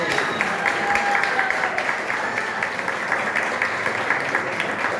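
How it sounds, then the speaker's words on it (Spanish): An audience at a folk music peña applauds guitarist Monchi Lima, steady moderate clapping throughout with a held musical tone and faint crowd noise underneath. "Un aplauso para él."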